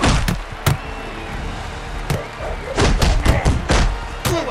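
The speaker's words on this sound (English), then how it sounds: "Nash firing off a solid blow" Punches landing in the Creed: Rise to Glory boxing video game, a series of sharp, heavy thuds and whacks at irregular intervals, loud and close, over a background murmur.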